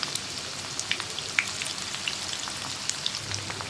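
Paneer cubes fry gently in oil for chilli paneer, a soft steady sizzle sprinkled with small sharp pops and crackles, close and fairly quiet.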